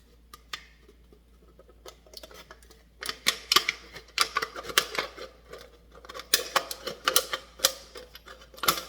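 Sharp, irregular snipping and crunching clicks of scissors cutting through a thin metal can, sparse at first, then quick and steady, close up.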